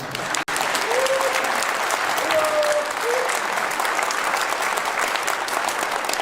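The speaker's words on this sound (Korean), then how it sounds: "박수 한번 부탁드립니다." Sustained applause from an audience at a formal gathering with the South Korean president, steady dense clapping throughout, with faint voices or calls mixed in.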